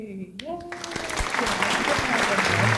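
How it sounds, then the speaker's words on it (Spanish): Applause rises to welcome guest Ashley Vázquez onto a show, growing steadily louder over a couple of seconds after a brief tone and a speaking voice at the start. "Vamos a darle los aplausos."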